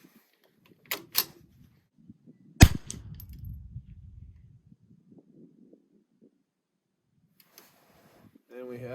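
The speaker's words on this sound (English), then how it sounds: "let's send a few more rounds and see what that does" Several sharp rimfire rifle shots at a range while a scope is zeroed: three crisp cracks in the first few seconds, the third loudest with a short ringing tail, then near-silence and faint talk at the end.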